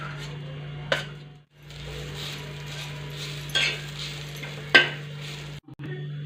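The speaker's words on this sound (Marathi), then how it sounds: "खोबरं थोडं लाल करून घेतोय" Grated coconut roasting in a pan is stirred with scraping, clattering strokes over a faint sizzle and a steady low hum.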